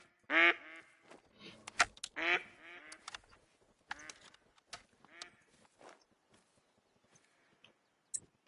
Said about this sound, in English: That's a piebald mallard right there.